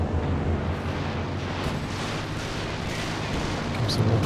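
A Katyusha rocket artillery barrage in Company of Heroes 2 makes a dense, continuous roll of booms and rumbling explosions. It stays loud and steady throughout, with faint voices under the din.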